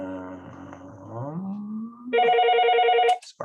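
An office desk phone rings, a short electronic trill with steady bright tones that sounds loud and close, preceded by a falling tonal sweep and ending abruptly.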